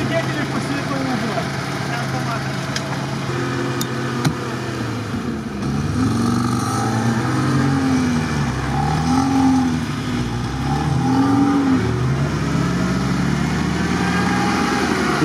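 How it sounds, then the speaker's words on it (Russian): VAZ-2107 engine in a video game, a continuous droning growl that rises and falls in repeated revs over a steady idle, with people talking over it throughout. "Батя, не газуй."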